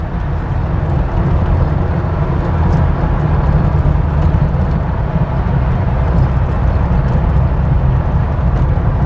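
1975 Porsche 912E engine pulling under near full throttle, a loud, steady low-pitched roar heard from inside the car, continuous for the whole stretch with no talk.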